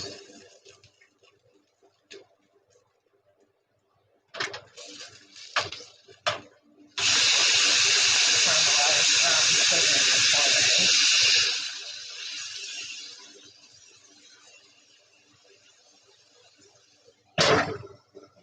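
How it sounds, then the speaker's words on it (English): Garlic and rosemary saute in butter in a pan, giving a loud burst of sizzling that lasts about five seconds and then fades, with scattered clatters and knocks of cookware before and after. "we're going to saute the garlic and the rosemary in the butter"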